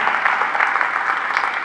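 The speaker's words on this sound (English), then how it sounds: "Give him a round of applause, please." Audience applause at a high school hall of fame ceremony, a dense, even patter of many hands clapping in an indoor room, alone and fairly loud.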